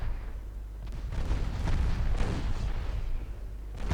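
Heavy battleship guns fire in a naval warfare game set around 1913, several deep booming blasts with rumbling tails overlapping across a few seconds, loud and close, without speech.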